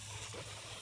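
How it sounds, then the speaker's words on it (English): Air hissing out of a whole-house water filter tank as its top valve is shifted from filtration, a steady soft rush of broadband noise that lasts under a second with no voices. "You can hear the air coming out of the tank"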